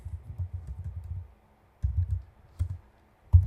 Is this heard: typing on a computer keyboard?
yes